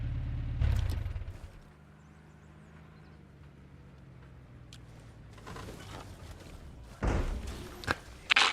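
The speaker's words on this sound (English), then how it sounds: "The truck decided to lay on its side" A military truck in the video game ARMA Reforger tips over onto its side, landing with a loud, heavy thud. A low engine rumble follows, then a few sharper knocks and impacts near the end.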